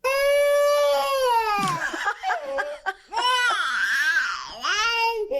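A baby cries loudly in long, wailing bursts with brief sobbing breaks in between, close and alone.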